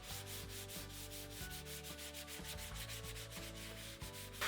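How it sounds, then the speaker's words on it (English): Fine 220-grit sandpaper is rubbed by hand over white-painted light pine wood to smooth out brush strokes, making close, steady back-and-forth scratchy strokes in a quick regular rhythm. "I'm mostly just sanding this one to smooth out the brush strokes."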